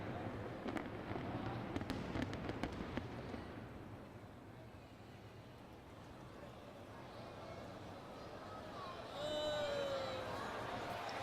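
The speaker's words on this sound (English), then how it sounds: "On a Thursday night, there was a magnificent firework display." Distant fireworks at a display crackle and pop over a steady murmuring crowd, with a few sharper bursts early on and a whistling rise near the end.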